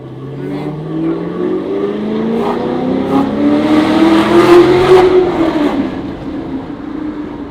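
Custom Camaro making about 480 horsepower at the wheels accelerating hard on a test drive, its loud engine note climbing steadily in pitch through the gears, close and dominant with little talk.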